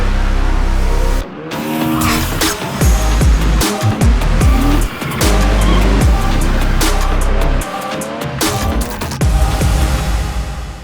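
A drift car slides with loud, repeated tire squeals and skidding over a revving engine, its howls rising and breaking off in rapid bursts that stop briefly twice before picking up again.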